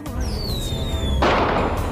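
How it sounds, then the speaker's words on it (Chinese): Fireworks go off in a xianxia fantasy drama: a long whistling streak that slides slightly downward, then a loud, sharp burst of bangs. "放烟花啊！"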